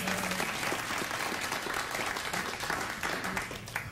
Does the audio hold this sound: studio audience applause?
yes